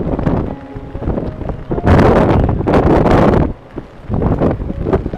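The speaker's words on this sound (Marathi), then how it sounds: "असा हा वारा, जोराचा वारा सुटलेला आहे." Strong seaside wind in heavy monsoon rain at Shrivardhan roars and buffets against the microphone in loud gusts, easing briefly before surging again, with no talk.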